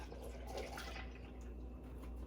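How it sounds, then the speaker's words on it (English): Milk is poured into waffle batter in a home kitchen, giving a soft, close liquid trickle and splash that runs for a couple of seconds at low volume, with no talking. "Okay, so we're going to add the milk."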